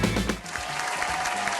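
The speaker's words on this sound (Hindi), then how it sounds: "तो देखो कंपेटिटर आपकी ताली भी है।" Studio audience applause on a TV game show, a dense steady clatter of clapping filling the short moment, loud and close, with a brief voice underneath at the start.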